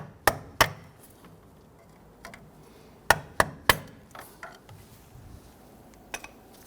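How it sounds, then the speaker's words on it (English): A hammer bonks a clamp tool handle to pop off a band clamp while an inner tie rod is replaced on a 2005-2021 Nissan Frontier, giving sharp metallic knocks in a loose cluster of about eight, close and crisp in a quiet room. "I'm gonna go ahead and bonk the handle here and pop that band clamp right off."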